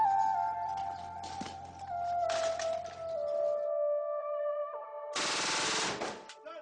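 Gunfire in a war zone, with several rapid bursts and sharp cracks ringing out at a distance, echoing against a sustained tonal whine in the background.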